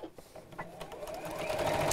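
A sewing machine stitches steadily at a live sew-along class, its motor hum rising and holding near and loud for the whole stretch, with no talk over it.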